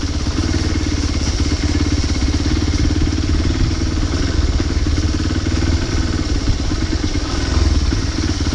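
A motorcycle is ridden along a slippery road near Yellapur, its engine a loud, steady, close drone with constant rattle and clatter that never lets up.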